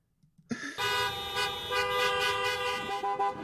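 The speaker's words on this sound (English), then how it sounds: "a lot of horn honking" Loud car horns honk almost continuously, several blaring together in a dense, sustained chorus with brief dips near the end.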